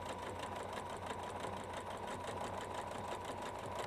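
A sewing machine runs continuously and fairly close, its rapid, even mechanical whirr stitching a quarter-inch seam on a tote bag.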